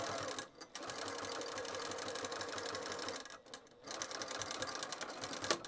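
Domestic sewing machine stitching a zipper pouch for a beginner project, running in a steady fast whir with two brief pauses, close and alone without talk.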